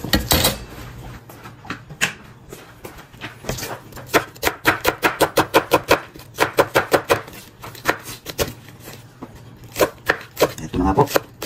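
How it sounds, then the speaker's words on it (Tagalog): A knife chops green onion leaves on a board in a home kitchen, rapid rhythmic knocks in bursts of quick strokes, close and crisp, with faint talk in the background. "ikakat po muna natin yung ating green onion leaves"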